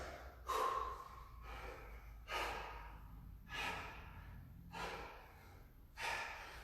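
Deep, forceful breaths during a live workout session, five sharp inhales and exhales spaced about every one and a half seconds, close and fairly loud with no talking.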